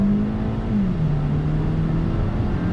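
A 2019 Toyota Camry accelerating onto a highway, heard from inside the cabin: a steady, loud engine drone rising slightly in pitch under continuous road and tire rumble, with no talk.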